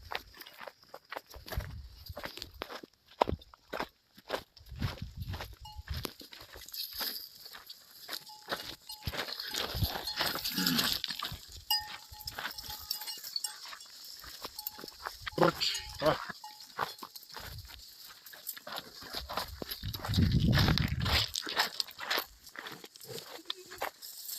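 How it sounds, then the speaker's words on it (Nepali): A herd of goats wandering into a town, bells clinking irregularly among scuffing hooves and footsteps, with occasional rustling and bursts of wind, heard close throughout, with speech at times. "ओहो, देख्न सक्नुहुनेछ है, बाख्रा चाहिँ यो सहरमा आइपुगेका छन्।"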